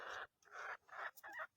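A silky chicken with fluffy plumage and blue earlobes gives a quick series of four or five short, rough clucks in a choppy rhythm, close and faint.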